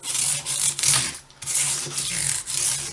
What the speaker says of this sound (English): I'm starting with 240 grit